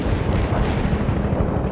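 Artillery fire support rumbles during a World in Conflict battle, a dense, continuous low roar of distant booms and blasts with no distinct gaps.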